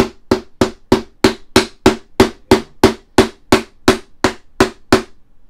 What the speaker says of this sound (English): I'm going to knock it in with the hammer